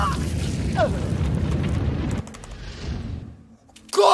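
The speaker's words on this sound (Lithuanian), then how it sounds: "Kodėl gesintuvas sprogo ant manęs?" A fire extinguisher blows up in the shooter game Shadow Warrior, a loud dense burst of blast noise lasting about two seconds, then a quieter hiss and a sharp hit at the end.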